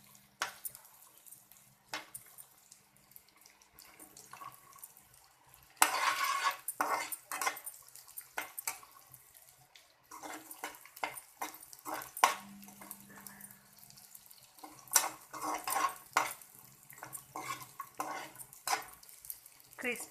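Pieces of gond, an edible gum, frying in a pan while being added a little at a time, with scattered clinks and scrapes of a spoon against the pan and soft crackling throughout, close and moderately loud.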